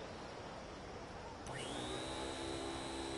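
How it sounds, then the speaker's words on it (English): A giant robot vacuum boss in Like A Dragon Infinite Wealth, a faint background hiss that gives way to a rising mechanical whine as the motor spins up, then holds as a steady whirring drone. "The overgrown vacuum is indeed defeated."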